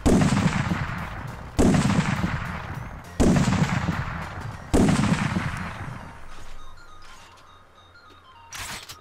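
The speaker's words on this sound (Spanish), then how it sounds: "Sigo disparando, eh." Gunfire in the video game Ark Survival Evolved: four loud, booming shots spaced about a second and a half apart, each with a long decaying tail, then a quieter fifth shot near the end.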